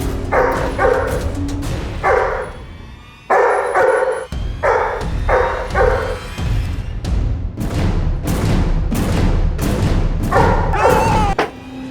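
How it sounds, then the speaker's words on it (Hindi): Several dogs bark in loud, repeated bursts with thuds and whimpers, in a tense staged Indian crime drama scene. "अब कुत्तों को निकाल दो वहां से।"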